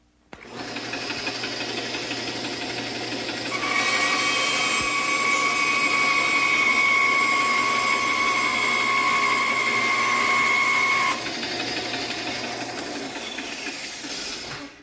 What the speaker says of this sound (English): I'm going to cut the two sides off